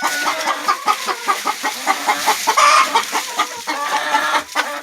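Chickens cluck steadily inside a coop with leaf litter on the floor, a busy flock giving short repeated calls that overlap at close range, with no talking.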